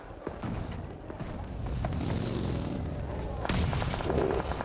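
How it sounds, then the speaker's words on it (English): Grenade blasts in the battle-royale game PUBG Mobile, heavy broadband bursts over dense game noise, with a sharp onset near the end and a voice talking throughout. "Nades on target."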